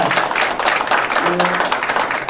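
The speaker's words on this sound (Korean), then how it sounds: "고생하신 정성균 교수님께 다시 한번 힘찬 박수 부탁드리겠습니다" Audience applause honours a professor at the close of a regional COVID-19 briefing, a dense, continuous burst of many hands clapping close and loud, with voices mixed in.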